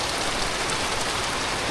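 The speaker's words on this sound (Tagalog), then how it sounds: "tulo ng ulan." Typhoon rain falls and drips onto surfaces nearby, an even, continuous patter and hiss without any talking.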